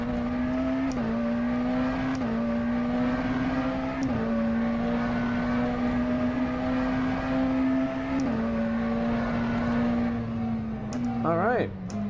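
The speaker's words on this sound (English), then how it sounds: "The McLaren Senna at Road America." McLaren Senna hypercar at Road America in the rFactor 2 racing sim, its engine droning steadily and loud at high revs, with brief dips at each upshift and a rising rev flare near the end.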